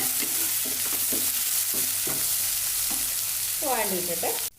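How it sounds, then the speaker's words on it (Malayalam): Onions fry in a pan over a medium flame for a cauliflower kurma. A close, constant sizzle runs under repeated spoon-stirring scrapes, and a brief sharper rattle comes near the end. "ഈ സവാള ഒന്ന് പെട്ടെന്ന് വഴങ്ങിയിട്ടാനായിട്ടാണ് മീഡിയം ഫ്ലെയിമിൽ വെച്ചുകൊണ്ട് കേട്ടോ"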